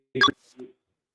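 A phone dialing on a cold call, with a short burst of bright tones followed by a fainter single beep, close and clear against silence.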